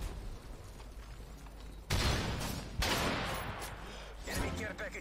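Machine pistol fire in a first-person shooter video game: loud, sharp bursts of automatic shots cut in at intervals over a constant game background.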